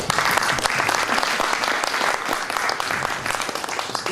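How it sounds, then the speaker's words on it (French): An audience applauds at the close of a conference day, a dense, loud, sustained clapping from many hands that fills the room evenly throughout. "je crois qu'on peut vous applaudir"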